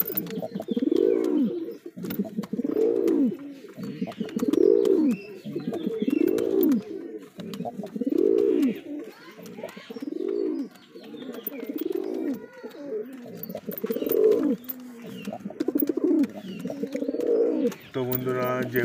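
Pigeons coo in a steady series of soft, throaty phrases repeating every second or so throughout, fairly close, with faint clicks and background noise between calls.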